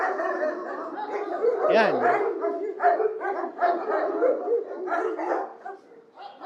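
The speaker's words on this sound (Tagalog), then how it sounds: "andyan na yung mga giant dogs, oh" Several large off-leash dogs bark repeatedly nearby in an irregular volley with yips and a whimper, while a person speaks over them.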